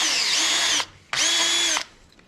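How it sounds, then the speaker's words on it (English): A power drill whines through the center hole on a 2021 Jeep Wrangler JLURD to open it up for bump stop extensions, running in two loud close bursts separated by a short pause. "So we need to open up the hole here in the center to allow for the installation of our bump stop"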